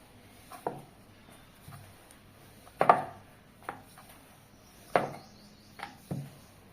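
Chapathi dough being rolled with a rolling pin, a series of soft, irregular knocks and rubs close by, quiet between strokes.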